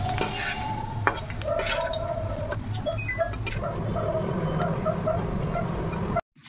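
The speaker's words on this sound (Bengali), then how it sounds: "এখন বড়াটা ভাজা হচ্ছে। এখানে বড়া ভাজা, লঙ্কা ভাজা।" Bora fritters and green chillies deep-frying in oil, a steady close sizzle with occasional bubbling pops and a utensil tap, continuous throughout with no talk.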